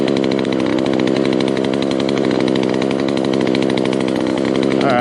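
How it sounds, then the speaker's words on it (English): A chainsaw held at a steady high rev while being warmed up before cutting an oak branch, a loud, continuous buzzing drone close by with no pauses or talk. "So just warming up the chainsaw, baby."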